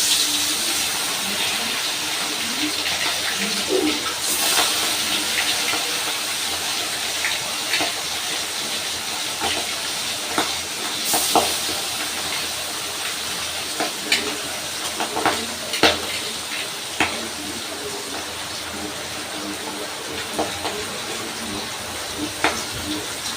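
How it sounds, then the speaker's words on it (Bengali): Rita fish frying in hot mustard oil in a wok, a continuous close sizzle with intermittent sharp spatters and pan clinks, no talking. "তেলটা আমার গরম হয়ে গেছে। এবার মাছগুলো আমি ভেজে নেব।"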